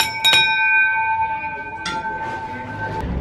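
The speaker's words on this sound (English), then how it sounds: "Ring the bell." A bell rung once with a bright metallic strike, its clear tone ringing out and slowly decaying for about two seconds before fading into faint room noise.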